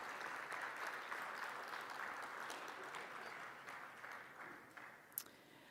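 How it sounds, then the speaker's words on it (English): Applause from a conference audience for the board, moderators and panelists, a steady broadband patter that holds at moderate level before thinning out toward the end, with one sharp louder clap near the close. "So if we just give them a round of applause for all their work"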